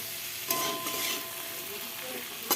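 Beans, eggplant and potatoes fry in a pan with black cumin and green chilli, a steady close sizzle with a light stirring scrape partway through and a sharp clink near the end.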